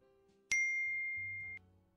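A single clear phone text message chime rings out close and bright, holding a sustained tone for about a second before cutting off, over a quiet low background.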